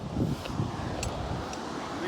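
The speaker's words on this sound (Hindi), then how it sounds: "बहुत ज़्यादा हवा चल रहा है।" Strong wind gusts steadily across a microphone on a Himalayan mountainside at an adventure rappelling site near Mussoorie, a continuous rough rumble with voices talking underneath.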